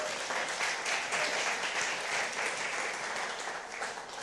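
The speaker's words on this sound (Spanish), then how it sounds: "Dele un aplauso," Steady applause from a church congregation during a Spanish-language sermon, a dense continuous patter of many hands that holds at a fairly even level and eases slightly toward the end.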